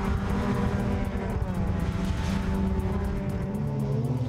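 Suzuki Swift rallycross race cars in a 2013 championship round at Mallory Park: several engines droning and revving together in a steady, moderately distant roar.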